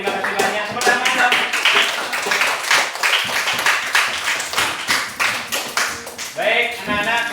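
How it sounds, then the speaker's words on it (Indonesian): Students in a classroom clap during a lesson, in uneven bursts of close, sharp handclaps. The clapping rises and falls with brief gaps, and children's voices and chatter mix in. "Tepuk tangan dong."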